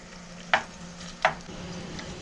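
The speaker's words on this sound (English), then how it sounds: "So we got our ham on in there with our oil. We're just going to let that start to sizzling." Ham sizzling in oil in a hot pan on a home stove, a soft steady frying hiss broken by two sharp clatters, likely a utensil stirring or knocking the pan, with no voices.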